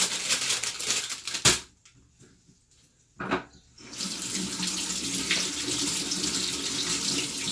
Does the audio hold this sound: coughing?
no